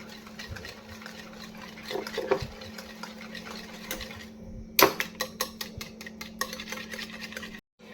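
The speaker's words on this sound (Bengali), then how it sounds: "এটাকে আরও সুন্দরভাবে ফেটে নিতে হবে যত সুন্দরভাবে এই মিশ্রণটা ফেটানো হবে কুকিজগুলো ততই সুন্দর হবে" A coffee cookie batter mixture is whisked in a bowl, with quiet rhythmic scraping and clicking strokes that turn into a faster run of sharp taps midway, under a low steady hum.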